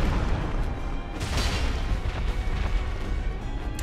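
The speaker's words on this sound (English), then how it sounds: "the explosions are really the only super dangerous thing about this guy." Boss explosions in the video game Dark Souls, a rumbling series of overlapping booms and bursts that swell and fade over a dense, loud low roar.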